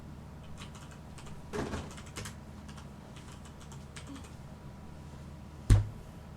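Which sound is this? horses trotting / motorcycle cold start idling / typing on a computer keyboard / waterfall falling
typing on a computer keyboard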